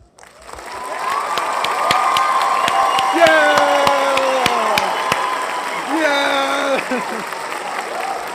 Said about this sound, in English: do I have a clapping sound effect?